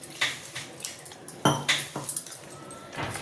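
A spoon clinks and scrapes against a metal bowl while bajji batter is mixed, giving several sharp irregular knocks and taps up close.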